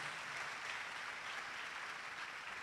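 Steady audience applause at a business summit, a dense even wash of many hands clapping that holds at a consistent moderate level throughout, with no voices standing out.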